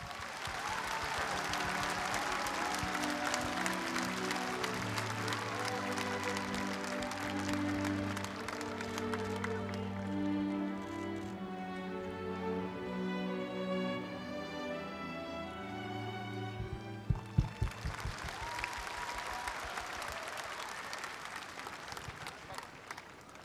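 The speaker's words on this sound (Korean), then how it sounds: "박수로 맞아주시기 바랍니다." Audience applause at a memorial ceremony marking the tenth anniversary of former president Roh Moo-hyun's death, a broad steady wash of clapping from a large crowd that swells, dips midway, then returns over a low musical background.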